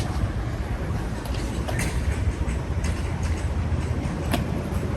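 Subway train rumbling steadily nearby, a continuous low clatter with faint squeals and metallic clicks over five seconds, no talking.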